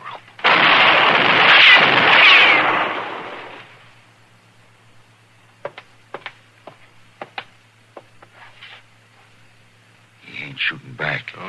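Gunfire in a Western radio drama: a long loud roaring volley of shots at the start, then scattered sharp distant cracks spread apart, ending with a brief burst of louder noise.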